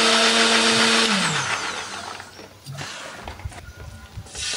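A kitchen blender grinds shallots, garlic, candlenuts and turmeric with a little water, a loud motor whine that drops in pitch and fades as it slows, then a few faint clatters.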